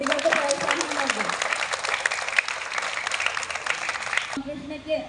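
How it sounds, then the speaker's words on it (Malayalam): Applause for children at a primary school Republic Day celebration, dense clapping from an audience running steadily, then cutting off abruptly near the end, where a voice speaks over a quieter room. "നല്ലൊരു കയ്യടി കൊടുക്കും, കുട്ടികൾക്ക് പ്രോത്സാഹനം നൽകും."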